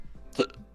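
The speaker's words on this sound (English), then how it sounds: "Excuse me, I got the hiccups." A single sharp hiccup from a man, brief and close, after a faint breath, with no speech around it.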